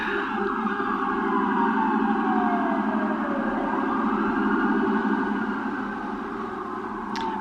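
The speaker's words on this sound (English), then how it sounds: "and there goes the siren" A wailing siren sounds loud and sustained, its pitch sweeping slowly down and up, fading slightly toward the end.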